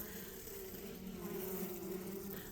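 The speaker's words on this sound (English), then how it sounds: "We've got bees that are dripping with nectar and honey right here" Honeybees swarming over exposed wax comb in an opened primal hive, producing a continuous low, steady drone that stays soft and even throughout.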